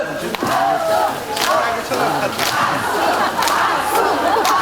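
A crowd at a mountain temple roars and cheers loudly in a sustained burst, with scattered shouts rising over the noise.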